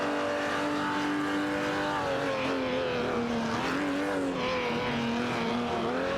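Racing cars in a video game, a Ferrari 250 Testarossa and a Maserati 450S battling wheel to wheel, their engines droning loud and steady with shifting pitch as they hold and change speed, no voices.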